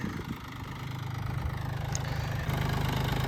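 A Japanese car engine idles in deep snow, a steady, fairly close mid-pitched hum with a faint rhythmic pulse that holds through the whole stretch and rises slightly near the end.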